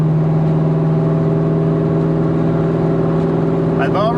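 The engine of a 1997 Ford Mustang SVT Cobra, with a short-runner intake, holds a steady loud hum with strong tonal harmonics, then briefly flares near the end as it revs and sags off throttle, with no talking.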